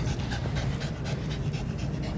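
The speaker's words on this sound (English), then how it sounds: "Dog breathing so hard." A dog pants heavily, fast and rhythmic, breath after breath up close with nothing else over it.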